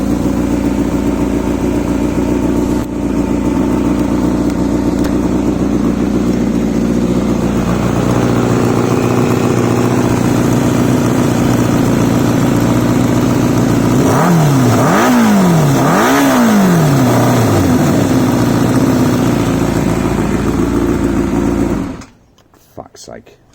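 Motorcycle engine idling steadily after an exhaust repair with added back pressure, then blipped through three quick revs that rise and fall before cutting off abruptly; loud and close.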